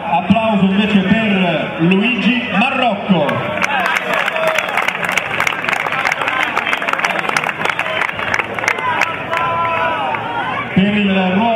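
Applause and cheering from a crowd welcoming a futsal goalkeeper at a Fondi Calcio a 5 team presentation. Loud clapping fills the middle of the clip, with a voice over a PA system talking before and after.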